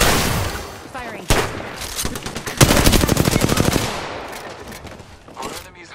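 Rapid automatic gunfire from a weapon in the video game Apex Legends rattles out in several loud bursts, with sharp single shots mixed in and a short burst trailing off near the end.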